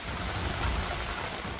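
Heavy monsoon rain pours down steadily in Nadiad, Gujarat, a dense, continuous hiss of falling water with no voices, close and unbroken throughout.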